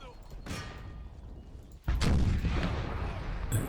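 Artillery guns firing on a battlefield in Empire: Total War, a distant boom followed by a sharper, louder blast and a dense rumbling aftermath, with speech faintly present beneath.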